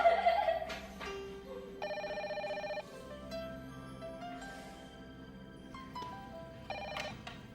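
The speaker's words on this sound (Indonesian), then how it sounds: "Ada telepon." A telephone rings in a home during a drama scene, with repeated bursts of electronic ringing at moderate loudness over a faint background, no talk.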